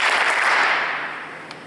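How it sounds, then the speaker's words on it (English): Audience at a football awards ceremony clapping, a dense burst of applause that starts loud and gradually fades, with one sharp clap near the end. "So everybody give Caden 3 claps."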